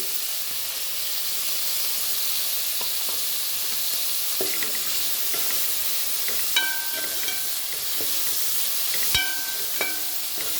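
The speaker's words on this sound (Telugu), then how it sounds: "ఆనియన్స్ కొంచెం ఫ్రై అయిన తర్వాత బీన్స్ వేసుకుందామండి" Onions frying in a pan for mushroom biryani give off a steady, soft sizzling hiss, joined later by scattered light spatula clicks and scrapes.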